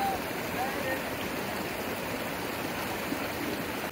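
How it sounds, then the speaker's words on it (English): Heavy rain pours steadily beside a rushing stream during a rainstorm, a dense, continuous wash of water noise that stays close and loud without a break. "call us stupid, but it is pouring out here"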